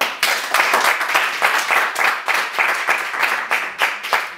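Theater audience applauding at a comedy and magic show, a dense patter of clapping that swells and eases in short waves, close and fairly loud with no voices over it.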